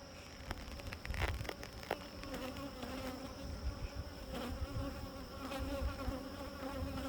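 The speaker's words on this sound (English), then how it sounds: "What's that buzzing sound?" Bees buzz in a dense, continuous drone outdoors where bees are being tended, with individual insects zipping close by now and then over the steady hum of the swarm.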